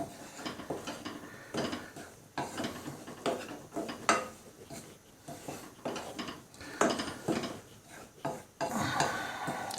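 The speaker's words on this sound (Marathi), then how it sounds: "ही जी तूप पूर्णपणे आट्यामध्ये मिक्स होईपर्यंत आपण ह्याला भाजून घेणार आहे" Ragi flour roasting with ghee in a pan is worked with a spatula, producing dry, rasping scrapes and clinks against the metal in uneven bursts, close and moderately quiet.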